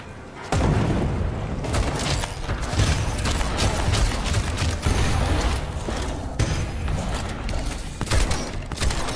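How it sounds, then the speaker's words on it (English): Pipe bomb blast in the zombie game Dead Island 2, a sudden loud explosion followed by sustained crackling, rumbling debris and bursts of gunfire-like booms. "Pipe bomb."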